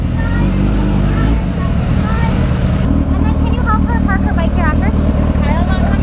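Japanese motorcycles ride up with a steady engine rumble, close by and loud, while several people talk and chatter over it.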